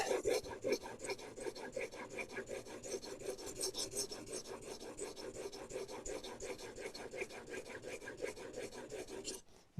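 A blade is sharpened on a 1000 grit whetstone, with continuous rhythmic rasping strokes back and forth at close range for nearly ten seconds, stopping abruptly at the end.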